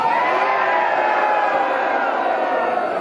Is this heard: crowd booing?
yes